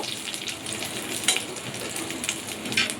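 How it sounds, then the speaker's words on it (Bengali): Green chilies frying in a pan give a steady close sizzle with scattered sharp crackles and pops throughout. "এই যে লঙ্কাটা কিন্তু মোটামুটি প্রায় ভাজা হয়েই এসেছে"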